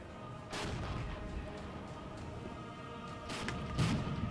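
Tank guns firing in a modern NATO-versus-Soviet wargame, with T-64 tanks in the fight: two broadband booming shots, one near the start and a pair of blasts toward the end, over a steady low battle rumble.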